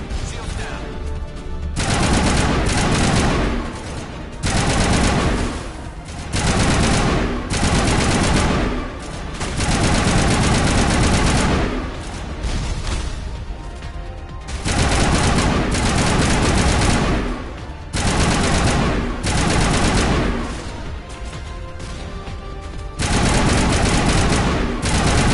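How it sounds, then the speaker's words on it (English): Sustained bursts of assault rifle fire from the Mass Effect 1 video game, loud and near, rattling in long automatic volleys separated by brief pauses across the whole stretch, with game music and effects underneath. "Unfortunately, this time I'm gonna have to go with assault rifle."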